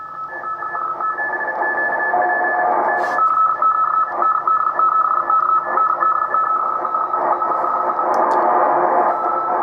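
Radio static with a loud steady interfering tone and hum, a very weak CW Morse signal barely poking through the noise, plus a couple of brief clicks.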